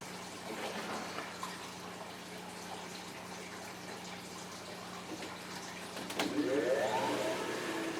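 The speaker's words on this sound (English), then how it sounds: "now that the water pump is primed, it's discharging the water from the filter through the pump and up into the aquarium" An aquarium water pump on a reef tank setup runs steadily after priming, drawing water from the filter and pushing it up into the tank with a continuous watery rush that grows louder and more turbulent near the end.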